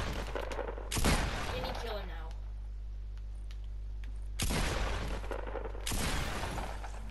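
Video game gunfire cracks out in three loud, close bursts of rapid shots, with quieter stretches and game background noise between them.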